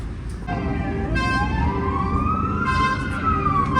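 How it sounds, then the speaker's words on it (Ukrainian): An old tram rides with its window open, its motor and rolling noise forming a steady loud drone while a rising and falling whine sweeps up and slowly down. "Такий старенький такий трамвайчик"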